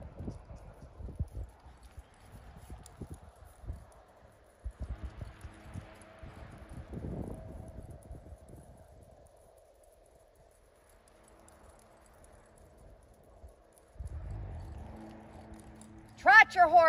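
Horse trotting in a ranch rail class at a western show, faint rhythmic hoofbeats thudding in irregular bursts, with a distant voice calling out over the quiet arena.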